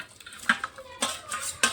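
Fried lentil vadas for dahi bada go into yogurt in a dish, giving a few soft clinks and dull knocks of utensils against the dish in short, separate bursts, close and fairly quiet, with no talk.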